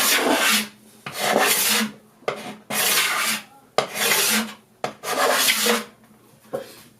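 A card scraper scrapes across wood in rhythmic strokes, each pass a close, dry rasping shave followed by a short pause.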